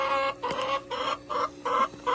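Backyard hens cluck close by in a quick series of about five short, throaty bursts with brief gaps between them, and no talking over them.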